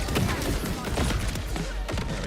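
Gunfire in the video game Borderlands 4, a dense chaotic barrage of thumping shots and impacts under a talking player.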